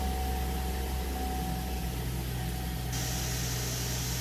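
A 2016 Chevrolet Traverse running after a no-start fault, a steady, even idle drone with constant broadband whir and hum, close and unbroken, no voices.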